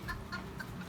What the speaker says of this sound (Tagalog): mao sad ni guys ang mga manok sa akong partner